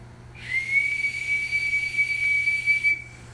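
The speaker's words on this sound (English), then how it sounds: "this is a bosun whistle" A single sustained high-pitched note from a brass bosun whistle held steadily for about two and a half seconds, loud and close, then cut off abruptly.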